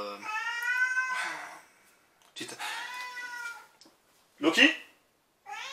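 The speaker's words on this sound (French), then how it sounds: "Mon chat, il est chiant." A pet cat meows in several drawn-out, whining calls with pauses between them, close and loud, and a person speaks briefly near the end.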